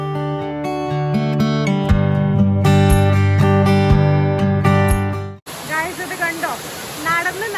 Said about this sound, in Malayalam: ഈ സൈഡിൽ കൂടെ വെള്ളത്തിൻ്റെ ഒച്ച കേൾക്കാനായിട്ട് ഭയങ്കര രസമാണ്